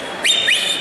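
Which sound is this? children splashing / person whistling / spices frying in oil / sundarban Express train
person whistling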